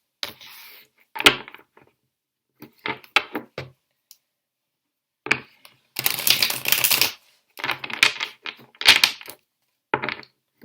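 Bursts of brisk tarot card shuffling, a riffle and slaps coming in separate rounds with short pauses between, close up and fairly loud.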